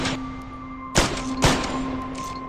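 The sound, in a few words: three gunshots from a Beretta pistol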